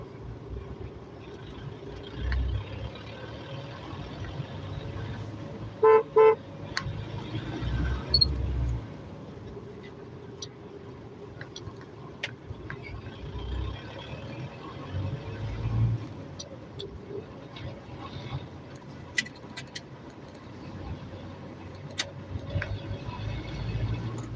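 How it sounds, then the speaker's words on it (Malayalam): Car driving at night on a road heading toward a bypass, with a low steady engine and road rumble from inside the cabin, quiet throughout and broken by a few soft clicks and knocks. "രാത്രി നൈറ്റ് ഡ്രൈവിംഗ് ആണ്"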